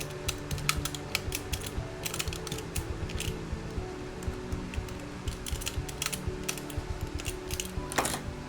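Screws are tightened on the gearbox of a Baratza Sette 270 coffee grinder. The sound is a quiet, close run of rapid ratcheting clicks and small mechanical ticks, irregular and continuous, with no talking.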